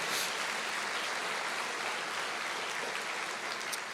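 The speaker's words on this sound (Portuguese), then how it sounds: "você pode dar uma salva de palmas para o Senhor." Church congregation applauding during a sermon, a dense, even wash of clapping heard from a distance, steady and fairly faint for a few seconds with no speech over it.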